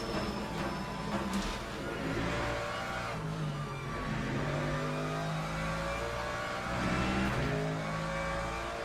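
A hypercar racing flat out at Le Mans in a racing video game: a continuous, loud engine roar with rising and falling revs through gear changes, with occasional hints of tire noise. No voices.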